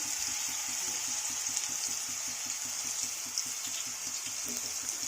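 Two spoons of garlic paste fry in oil for Bengali-style chana masala, giving a faint, even sizzle over a quiet, low background hum.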